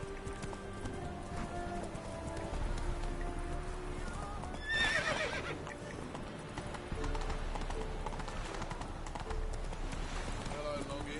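Roach the horse gallops in The Witcher video game, steady hoofbeats under game sound with a neigh partway through, while a voice talks over it.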